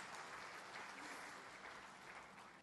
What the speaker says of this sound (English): Put your hands together, ladies and gentlemen.